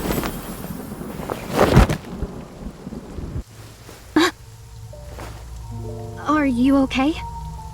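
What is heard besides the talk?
heavy rain downpour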